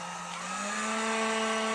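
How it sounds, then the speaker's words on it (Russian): A KVT TT-2000 hair dryer runs steadily after repair, giving a continuous airy whoosh over a constant low motor hum with a slight pitch rise early on. The sound is loud, close and unbroken. "Гул — это уже особенность этого фена."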